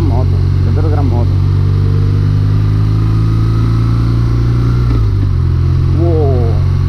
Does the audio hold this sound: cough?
no